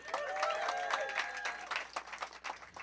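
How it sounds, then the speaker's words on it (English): Applause from a comedy club audience, a mix of clapping and cheering voices that starts full and loud, then thins into scattered claps as it fades. "One last round of applause for yourselves."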